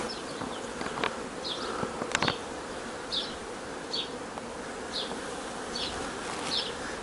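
Honey bees buzz steadily inside a freshly opened hive on a first inspection, a dense close swarm drone with brief louder flares as individual bees pass near.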